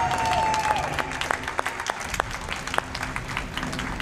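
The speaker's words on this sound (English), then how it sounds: "Can I get another round of applause for this man?" Audience applause at a speedrun charity event for a blindfolded Breath of the Wild run, a steady crowd clapping throughout with a few sharper claps and brief cheer-like tones standing out.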